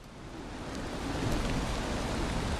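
Rain begins falling in the game Valheim, a dense, steady hiss of drops that swells slightly louder partway through and then holds even, with no voices over it.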